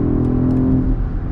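A 2023 BMW X7 M60i engine revving under acceleration while driving, a loud, continuous low roar heard from inside the cabin.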